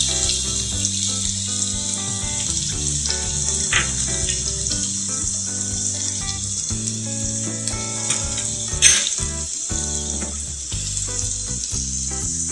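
Dried red chili and chopped garlic frying in a pan, a steady close sizzle and crackle that runs unbroken throughout with no voices.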